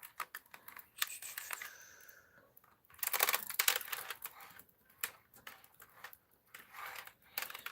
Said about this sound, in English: So let me get this one typed in.